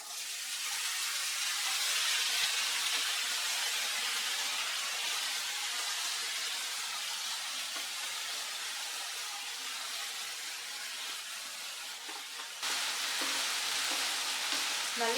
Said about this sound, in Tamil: கருவேப்பிலை பொரிஞ்சதும் வெட்டி வச்ச உருளைக்கிழங்கு சேர்த்துக்கலாம்.